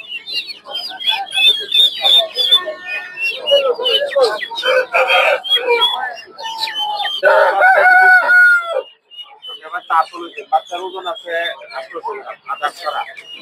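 Crowded fowl at Tongi market, Kadaknath and fighter chickens among them, keep up a dense, near chorus of crowing, clucking and squawking, with several overlapping crows and a brief lull before clucking resumes.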